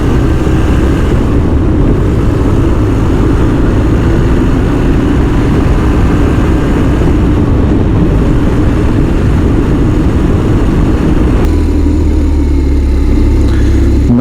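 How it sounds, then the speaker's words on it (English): A 2005 BMW R1200RT with its boxer engine rides on and accelerates, a loud continuous engine roar mixed with heavy wind rush and a lower tone shift near the end. "Now the engine temperature is good and we can make some acceleration with a boxer sound."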